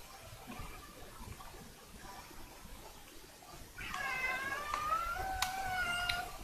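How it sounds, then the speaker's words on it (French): A cat meows several times in drawn-out, wavering cries, fairly close, after a few seconds of quiet room noise. "Vous avez un petit bonjour de mon chat si vous l'entendez."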